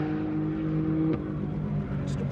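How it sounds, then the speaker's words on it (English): Porsche GT3 race car at Wakefield Park track, a steady droning engine note with a brief rise, heard from a distance under a voice. "here's a bit of Porsche action here. GT3, look out."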